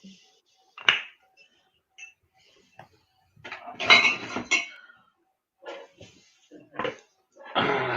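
A spoon and other cutlery clink while a cocktail is being mixed, giving several brief, separate metallic rattles with pauses between them and a longer clattering burst toward the end, close by and without speech.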